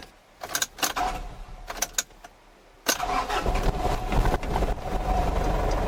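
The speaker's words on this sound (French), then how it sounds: "Il démarre et il tient le ralenti" A Ford Ranger pickup that had been faulty: keys jangle and click for a few seconds, then the engine catches abruptly and settles into a steady, close, unrevved idle.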